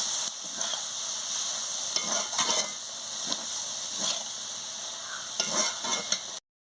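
Onion greens curry is stirred in a pan after water goes in, a steady hissing simmer with intermittent scrapes and clinks of the spoon against the pan, close and fairly loud.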